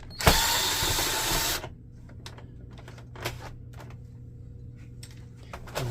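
An electric screwdriver whirs loudly for just over a second as it backs out a screw from an Epson WorkForce WF-3520 printer during disassembly, followed by a few faint clicks and taps as the part is handled.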